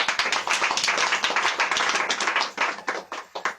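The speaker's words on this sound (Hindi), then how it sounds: "ताली बजा सकते हैं" Church congregation clapping hands together during a Hindi sermon, a dense run of close, sharp claps with an uneven rhythm that thins into a few scattered claps near the end.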